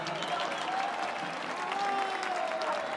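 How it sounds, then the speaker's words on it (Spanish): Steady crowd applause at a New Year's party with an orchestra, dense and continuous clapping throughout, moderately loud and without clear talk over it. "Un aplauso para Karen"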